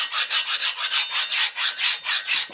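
An old hand file rasping pitting and rust off a steel anvil face, in steady rhythmic back-and-forth strokes, close and loud with no talk.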